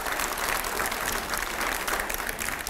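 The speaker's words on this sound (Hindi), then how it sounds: "पहले जोरदार तालियां" An audience at a televised panel discussion applauds loudly, a dense, steady wash of clapping that holds for the whole stretch with no talk over it.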